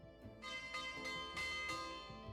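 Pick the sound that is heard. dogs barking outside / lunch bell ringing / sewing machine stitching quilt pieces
lunch bell ringing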